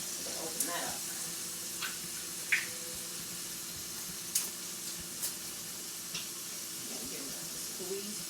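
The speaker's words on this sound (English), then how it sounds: "As you can see, the potatoes are frying up." Potatoes frying in a pan for home fries, a soft steady sizzle with scattered pops and faint clinks of stirring, moderately quiet.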